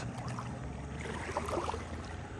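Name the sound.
Naiad boat backing out on Lake Champlain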